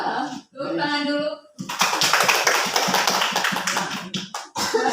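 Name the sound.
applause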